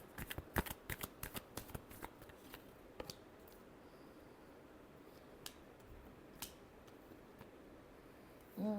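Tarot cards being shuffled at close range, a burst of quick riffling flicks and taps at the start that thins into scattered soft clicks, with a louder rustle at the very end; no voices.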